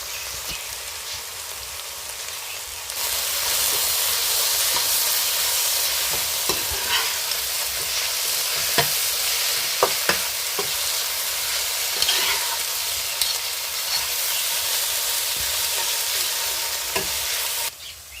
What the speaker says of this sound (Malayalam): ഇവിടെ സവാളയൊക്കെ ഒന്ന് വഴന്ന് കരുവായിട്ടുണ്ട്